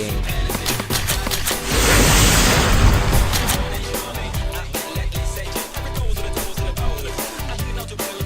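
Rapid bursts of video game gunfire crackle and pop in dense volleys, with a heavier sustained barrage early on, loud and close throughout.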